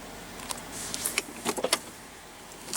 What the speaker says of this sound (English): Automatic driver's side window.